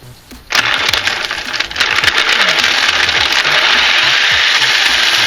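An electric motor drives a 3D printed gear transmission on a BMX bike, starting abruptly after a brief quiet moment and then running as a loud, steady mechanical whir with a rattly gear grind throughout.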